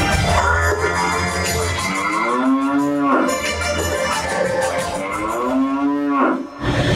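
Cows in a village field give loud, drawn-out moos, several rising and falling calls in close succession, with no talking.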